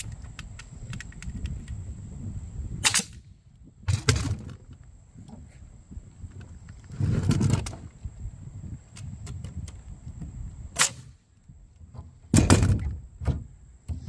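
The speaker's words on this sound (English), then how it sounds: "Shoot the nail in it." A new nail gun drives nails into barn boards during a backyard barn build: five sharp, loud bangs at uneven intervals over a low, steady background rumble.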